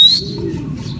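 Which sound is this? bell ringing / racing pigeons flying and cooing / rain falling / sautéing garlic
racing pigeons flying and cooing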